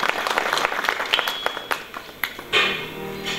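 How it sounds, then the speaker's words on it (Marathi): Audience applause ringing out at a devotional kirtan gathering, a dense spread of hand claps that swells and fades, with a brief surge near the end. "त्या युट्यूबवाल्या दादांसाठी जोरात टाळी वाजू द्या."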